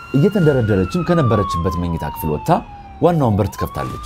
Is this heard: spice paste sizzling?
no